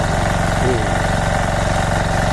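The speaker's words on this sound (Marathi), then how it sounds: "हां आता ट्रॅक्टर चालू झालेलो बाजीराव तो आमच्या." A tractor's engine idles close by in a steady, low rumble at the start of rice sowing in a Konkan village, with someone talking over it.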